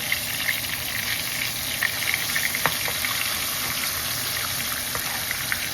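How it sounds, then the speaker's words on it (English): Steady sizzling and crackling of fish shallow-frying in oil, with small pops throughout, close and continuous with no talking. "I'm not deep frying them, I'm just shallow frying them so they're not in too much oil."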